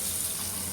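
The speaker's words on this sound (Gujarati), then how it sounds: "અને આ વઘાર અંદર રેડી દઈશું" Hot tempering with asafoetida pours into handvo batter in a short, steady, soft rushing hiss, with no pause and no voices.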